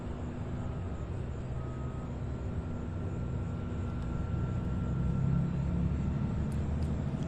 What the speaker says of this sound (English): So the next arrival here, Southwest 3396.